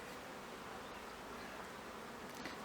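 Honey bees buzz in an open hive during a spring inspection, a dense, continuous droning hum from many insects close by, with no talking.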